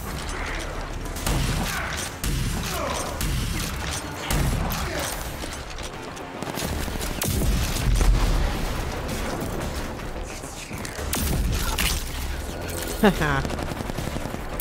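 Shotgun blasts and weapon handling in the video game RAGE 2, busy combat noise with mechanical clicks and shots layered under a player's brief laugh and in-game sounds.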